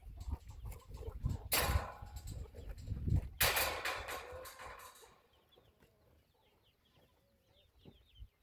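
Farm chickens cluck and squawk close by on a homestead, with two loud bursts of commotion early on, then quieter scattered clucking and soft calls.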